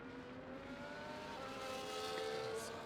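F1 cars on a wet formation lap at the Canadian Grand Prix in F1 24: steady high-pitched engine whine rising gradually in pitch, with several engines droning together at moderate distance, no talking.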